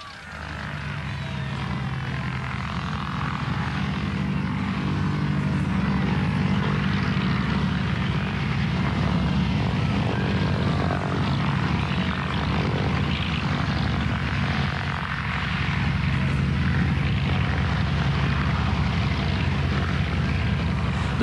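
A Caproni-designed propeller record plane drones steadily with its engine running, a dense, continuous roar that holds at a constant level from start to finish with no voices.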